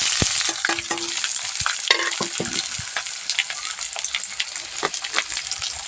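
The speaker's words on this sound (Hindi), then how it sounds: "अब डाल देते हैं प्याज और मिर्चाई का फ़ौरन" Chopped onion and chilli sizzle in hot oil in a wok, a dense, continuous crackle close by, with frequent scrapes and knocks of a stirring utensil throughout and no voices.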